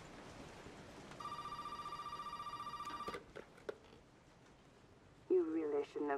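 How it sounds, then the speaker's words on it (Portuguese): A telephone in the video game Resident Evil 7 rings with a rapid, trilling bell for about two seconds, then falls quiet before a voice speaks. "Tem o telefone tocando,"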